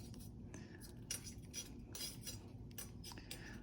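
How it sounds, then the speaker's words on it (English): Faint metallic scraping and light clinks repeat in short bursts as jewelry wire is wrapped around a gemstone, quiet and close over a low background hum. "The wire is making noise."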